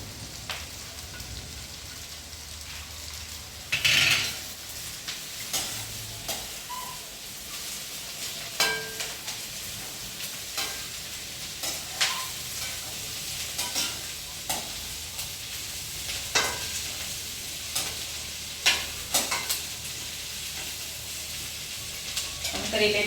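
Bitter gourd frying in a pan with other ingredients being browned alongside it, a quiet continuous sizzle broken by repeated scraping and stirring strokes of a utensil, fairly faint and close.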